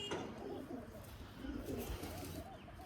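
Pigeons coo softly in repeated rolling phrases, fairly close, over a low steady background.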